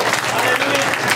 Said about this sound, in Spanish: Denle una aplauso fuerte a Dios.